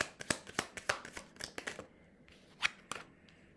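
Tarot cards being shuffled by hand, a rapid run of crisp, close flicks and taps, bunched at first and then sparser, with a louder snap near the end.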